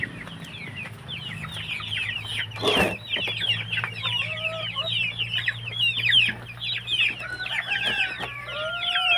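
A flock of chickens clucking and squawking busily, with overlapping calls throughout, a steady low hum underneath and a brief burst of noise early on.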